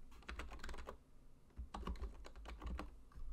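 Fingers type on a computer keyboard while entering JavaScript and CSS code, giving quick clusters of crisp, close key clicks with a short pause between two bursts, no speech.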